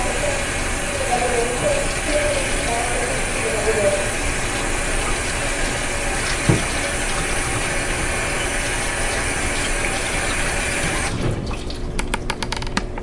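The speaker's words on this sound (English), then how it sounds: "you just have to give it a good wash with hot water and soap" A brush being scrubbed with hot water and soap in an animal shelter, giving a steady wet scrubbing and running-water wash throughout, with a brief knock midway and a sharper rattling change near the end.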